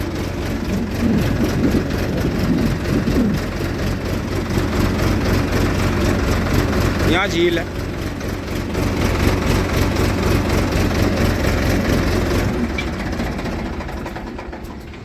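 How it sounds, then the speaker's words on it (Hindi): A farm tractor's engine runs steadily beside fields being flooded for puddling, a continuous low rumbling drone close by, with a voice speaking briefly midway. "बबलू भाई अभी ट्रैक्टर लेके जाएंगे"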